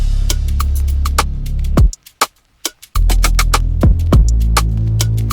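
Afrobeats beat built in FL Studio with a deep sustained bass line under crisp drum hits, dropping out briefly to sparse thumps before the full groove returns, loud and close.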